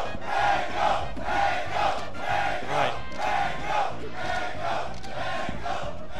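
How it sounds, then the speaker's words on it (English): A large crowd at a Super Smash Bros. Melee tournament roars and chants in swelling, rhythmic waves, dense and loud throughout without clear speech. "The crowd is absolutely alive."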